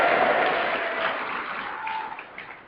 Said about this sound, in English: I expect I'm going to get another applause here